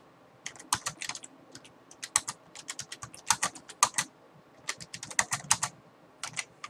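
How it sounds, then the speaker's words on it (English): Close clicking of a computer keyboard during an online card game session, keys tapped in irregular quick bursts and pauses, fairly quiet with no talk. "Sorry if I type slowly."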